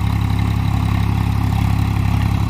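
A Swraj 744 XT 2022 tractor's 3478 cc engine idles close by, a steady, even low throb with a constant rumbling pulse and no change in speed throughout.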